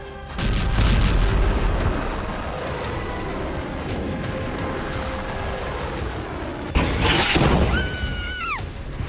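Missile strikes hit Beirut: a heavy blast opens, followed by a long rumbling roar, then a second sharp explosive burst with wavering high tones near the end, loud and without speech.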